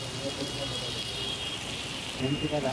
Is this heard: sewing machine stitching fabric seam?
no